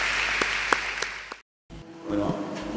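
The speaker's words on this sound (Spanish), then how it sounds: "Los recibimos con un aplauso" Audience applause welcoming four panelists onto the stage at an education forum on neuroscience, a steady burst of clapping with a few sharp claps standing out, breaking off into a short silence before room noise and a voice resume.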